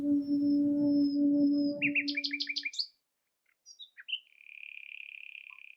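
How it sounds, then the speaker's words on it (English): A nightingale sings outdoors in a duet with a human, first a sustained tonal note, then rapid repeated chirps in a quick rhythmic series, a brief pause, and a long clear whistled trill, close and distinct. "Listen to the world's most wonderful duet between a human and a very special bird, the nightingale."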